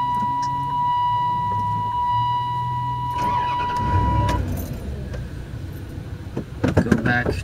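A car engine cranking and catching after the key is turned, with keys jangling first, then a rising engine rumble near the end. A steady electronic tone runs beneath the first half, and soft voices are faintly present.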